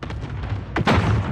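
A flashbang grenade detonates in the video game Call of Duty Warzone: one sharp, loud burst near the end that rings on, following quieter game noise.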